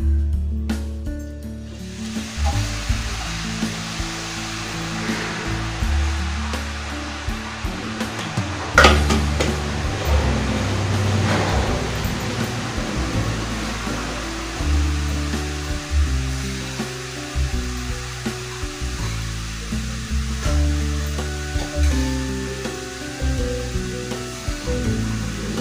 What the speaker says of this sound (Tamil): இப்போ நல்லா எண்ணெய் காஞ்சிருக்கான்னு நம்ம கொஞ்சமாக மாவு போட்டு பார்த்துக்கலாம்